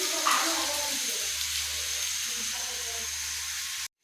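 Potatoes frying in a pan over high heat as their water cooks off, giving a steady close sizzle with occasional stirring, while a voice talks faintly underneath.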